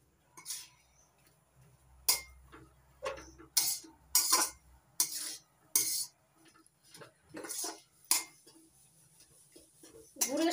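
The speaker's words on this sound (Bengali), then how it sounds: "নারকেল কোড়া আর খেজুরের গুড় নাড়াচাড়া করে একটু পাক দিয়ে নিয়েছি।" Grated coconut stirred with date palm jaggery in a pan, with irregular scraping and clinking strokes of a utensil, close and moderately loud, in short bursts with pauses.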